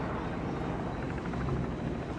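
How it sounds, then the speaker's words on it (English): A helicopter's rotor chops faintly overhead at a desert powerboat parade, a steady distant beating rumble with no voices. "helicopters in the air on cue. There's actually one going overhead right now."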